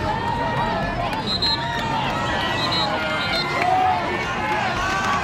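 A loud, steady roar from the crowd at a men's high school football game against Petoskey, busy with cheering and voices and swelling slightly toward the end.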